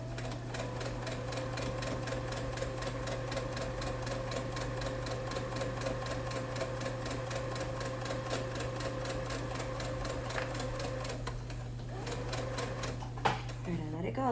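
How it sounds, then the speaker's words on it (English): A sewing machine stitches steadily at a fast, even rhythm, fairly close, with a low hum underneath and a few clunks near the end. "hope my sewing machine don't be mad at me because it's been doing a good job today"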